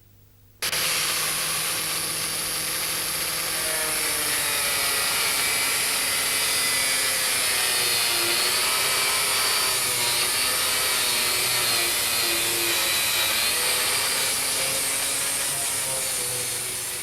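A soft sanding disc works over the damaged metal of an old car wing, a steady abrasive whir that starts abruptly and holds level and close for the whole stretch, with no talking.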